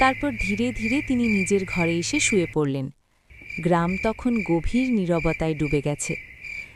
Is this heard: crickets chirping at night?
yes